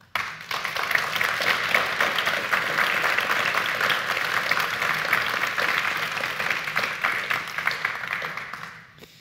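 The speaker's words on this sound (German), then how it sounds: "Ein ganz herzliches Dankeschön mit einem großen Applaus," Sustained applause from an audience at the close of a German-language lecture and panel event on reducing pesticides, steady dense clapping for about nine seconds before tapering off, with no talking over it.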